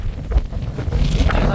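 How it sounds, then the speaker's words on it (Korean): Strong, biting wind buffets the microphone with a continuous low rumble and gusty roar on a mountain ridge near Sinbulsan summit in the Yeongnam Alps, during a March gale warning. "바람은 역시 칼바람이 붑니다."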